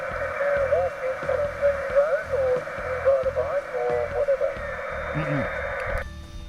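Amateur radio reception during a SOTA summit activation at Mount Ritchie, Victoria: a continuous band of radio hiss and interference with a garbled, warbling transmitted voice running throughout, cutting off sharply near the end.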